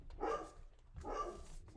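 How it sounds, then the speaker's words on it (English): Jarvis the dog barks at other dogs, two muffled, moderately distant barks about a second apart in a quiet indoor room. "He's barking at the dogs."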